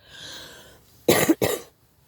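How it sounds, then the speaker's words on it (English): A person coughs twice in quick succession, loud and close, after a brief stretch of faint background noise. "even when I coughed like this"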